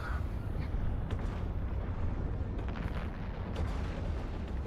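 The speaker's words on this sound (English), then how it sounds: "We're going to just obliterate some of these battleships." Battleships blowing apart in the EVE Online space game, heard as a dense, continuous low rumbling roar of explosions. The barrage stays loud and unbroken from start to finish, with no talking over it.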